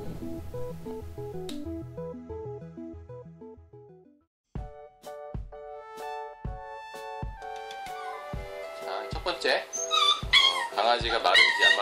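A puppy whimpers and lets out short, high yips over a musical background, the yelps growing busier toward the end.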